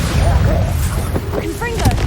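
Spell blasts from Incendio and Bombarda cast in the Hogwarts Legacy video game: a string of bursts, crackles and whooshing magical effects rapidly following one another under a steady rumbling game score, loud and close.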